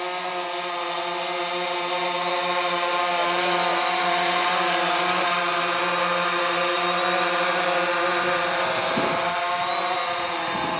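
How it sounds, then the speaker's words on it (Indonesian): A DJI Phantom 3 quadcopter drone hovers and shifts direction nearby, its steady high-pitched propeller whine holding constant and loud throughout. "maka drone-nya akan ke kiri."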